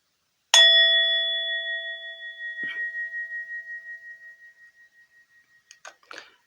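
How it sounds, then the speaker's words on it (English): A single bell is struck once and rings out with a long, clear, slowly fading tone, close and alone, with faint handling noise near the end. "I'm just going to ding the bell"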